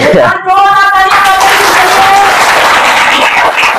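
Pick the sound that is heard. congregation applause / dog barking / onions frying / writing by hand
congregation applause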